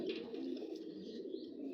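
Pigeons kept by a racing-pigeon fancier coo softly and continuously, a low murmuring drone with faint background noise and no talk.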